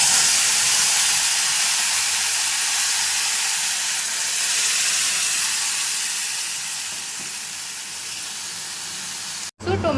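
Tomato and tamarind paste for tomato pulihora hitting a hot pan with roasted ingredients, giving a loud, steady hiss and sizzle that slowly fades over several seconds and cuts off abruptly at the end, no talking.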